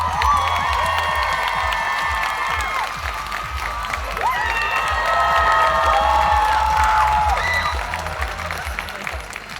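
A crowd at a cosplay contest at a Strasbourg convention applauds and cheers loudly and steadily, with high whoops and shouts rising over dense clapping.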